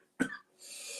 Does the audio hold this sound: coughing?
yes